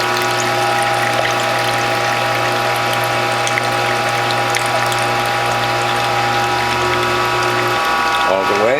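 A Whole Health Foundation juicer press grinds and ratchets steadily while juicing cherries, a loud continuous mechanical whir with gear clicks that shifts and winds down near the end, close up.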